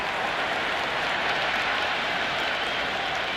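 A stadium crowd in a cricket video game cheers and applauds in a steady, dense wash of noise that stays loud and even throughout, with no voices standing out.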